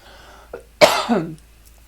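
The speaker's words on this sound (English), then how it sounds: "I get a little throat tickle that will send me into a coughing fit every once in a while." A single hoarse cough, close and fairly loud, rising out of near silence and fading quickly.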